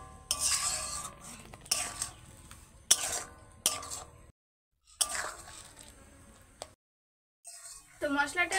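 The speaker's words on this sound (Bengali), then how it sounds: "এবার আমি ভালো করে নাড়াচাড়া করে মিশিয়ে নিচ্ছি আর বেশ কিছুক্ষণ সময় একটু আমি কষিয়ে নেব" A spatula stirring and frying spice masala with Kashmiri chilli powder in a pan, scraping and clinking strokes in bursts separated by short silences, close and moderately loud, with someone speaking between them.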